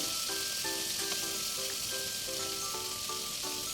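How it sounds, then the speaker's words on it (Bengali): Hilsa fish heads frying in hot oil give a steady, close crackling sizzle throughout, with faint tonal notes drifting in the background. "তার জন্য মাথাগুলো ভেজে নেব"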